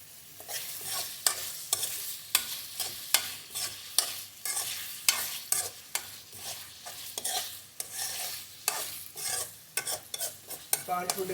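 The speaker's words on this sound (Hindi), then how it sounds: "अब हम अपने गोश्त को अच्छे तरीके से 5 मिनट भून लेंगे" Beef is stir-fried in a pot for salted meat, with sharp, repeated scraping stirs at a brisk, uneven rhythm over a soft, steady sizzle, close and alone with no voices.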